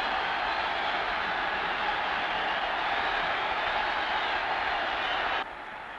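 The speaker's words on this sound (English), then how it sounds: "And listen to the crowd roar" A football crowd at a 1964 Fairs Cup match between Kilmarnock and Eintracht Frankfurt roars after a headed goal, a dense, steady wash of massed voices at constant loudness that drops off abruptly near the end.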